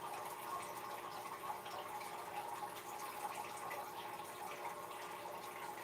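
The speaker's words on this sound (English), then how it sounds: "It's a little bit low, so it sounds like a waterfall." Water from a slightly low aquarium trickles and splashes like a tiny waterfall indoors, a faint, steady running flow in a quiet room.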